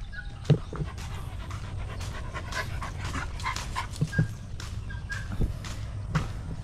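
Several dogs around a rural Filipino yard, one panting in quick irregular bursts with faint whimpers and soft yips, close by over a low background hum and scattered light footsteps.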